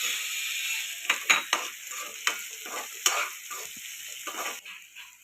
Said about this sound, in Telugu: వీటిని బాగా ఫ్రై చేయాలండి.